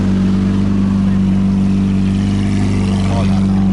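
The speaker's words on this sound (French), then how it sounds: "la Diablo qui fait des revs" A Lamborghini Diablo's engine drones in a deep, steady rev amid a car-packed street, the low rumble loud and continuous with voices mixed in.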